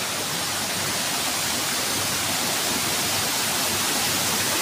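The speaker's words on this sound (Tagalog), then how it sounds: "Ayan, ang ganda, mga waterfall." Broad, steady roar of a waterfall, loud and continuous with no breaks, at a river where tilapia were being caught.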